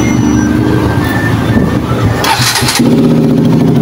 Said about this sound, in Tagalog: Maririnig natin masyadong malagitik yung kanyang tunog.